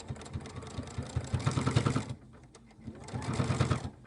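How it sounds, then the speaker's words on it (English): A sewing machine top stitching fabric, rapid rhythmic needle chatter in two close bursts separated by a short quieter pause. "We're going to top stitch this now, so going back to the machine."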